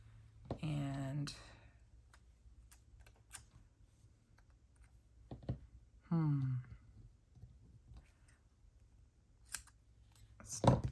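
Scissors snip paper for a planner page in a few short, crisp cuts spaced apart, while a person talks quietly in between.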